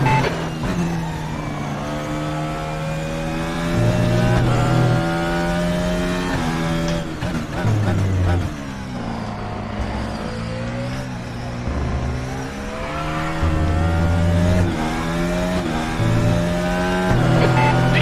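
FRX22 electric-style race cars in RaceRoom at Silverstone speed along the pit lane, a steady, overlapping whine of motors rising and falling in pitch as cars pass close by, continuous throughout with no talking.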